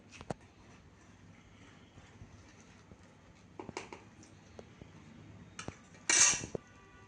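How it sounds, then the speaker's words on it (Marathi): Pieces of dalia dhokla are lifted into a serving dish, with sparse quiet clinks of utensil on metal and a brief louder scrape near the end, in a calm kitchen. "आता आपण सर्विंग डिश मध्ये ढोकळे काढून घेऊया."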